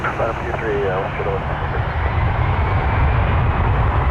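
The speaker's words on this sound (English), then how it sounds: "Rouge 1680 is on an A321-211 headed to Orlando, Florida" An Air Canada Rouge Airbus A321-211 jet bound for Orlando gives off a broad, low engine roar that grows slightly stronger toward the end, with a voice talking over it at the start.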